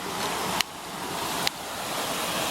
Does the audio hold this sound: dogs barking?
no